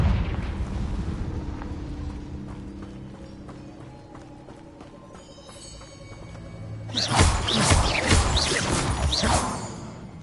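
Confringo blasting spell in Hogwarts Legacy: after quieter rustling movement and game ambience, a loud, broad explosive burst erupts and rumbles on for a couple of seconds before fading back down.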